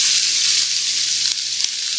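Onion sizzling in hot oil in a pan, a loud continuous close frying hiss with a couple of faint clicks.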